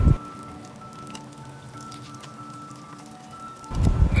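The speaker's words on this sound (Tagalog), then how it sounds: "Tapos isa-isahing iprito yung turon." Banana turon frying in hot oil gives off a soft, continuous crackle and sizzle with scattered pops, fairly quiet and close, with louder clatter at the start and end.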